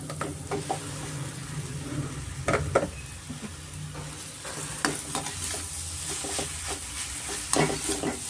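Soaked vermicelli (shavige) being stirred in a pan with peanuts for hotel-style upma, giving repeated close scraping and stirring strokes over a soft sizzle, with no voices.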